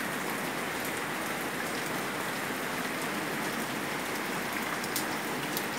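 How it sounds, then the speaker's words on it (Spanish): Steady rain falls on a hard surface, a dense even hiss of drops with a few sharper ticks, constant from start to finish. "Pinta que vamos a tener lluvia todo el día."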